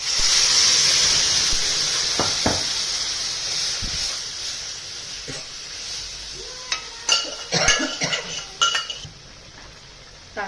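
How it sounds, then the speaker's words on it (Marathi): Mashed spinach for a thin buttermilk spinach curry hits a hot pan with a loud hiss and steam that slowly fades. Nearby clinks and scrapes of a utensil against the pan follow. "आणि घोटलेला पालक आता याच्यात टाकते."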